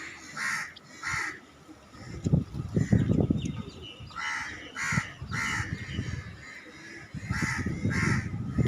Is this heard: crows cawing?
yes